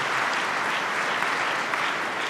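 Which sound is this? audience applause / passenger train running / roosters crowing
audience applause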